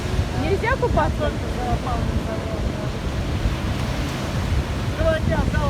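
Steady wave wash rolls onto an empty Anapa beach on the Black Sea in early morning, a dense rushing noise with wind, broken by short rising and falling chirps, probably voices or birds, early and late.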